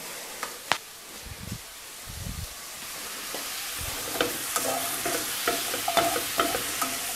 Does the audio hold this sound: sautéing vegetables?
yes